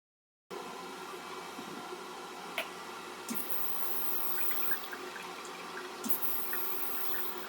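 Running tap water pours steadily over a vinyl-decorated item being washed, a continuous close splashing hiss with occasional brief clinks and bumps, no talking.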